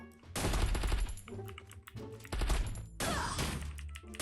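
Explosive gun firing in a video game, three loud bursts of rapid booming shots separated by brief pauses, close and harsh with no talking over them.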